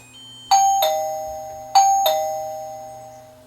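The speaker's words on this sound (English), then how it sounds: "And the doorbell rings inside." An indoor chime for a Meco smart video doorbell rings twice, each a bright two-tone ding-dong with a long fading ring, close and clear in a quiet room.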